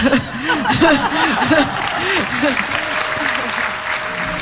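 Applause and clapping as someone claps his hands overhead, mixed with laughter and excited voices in the room; loud and close at first, then settling into a softer crowd wash.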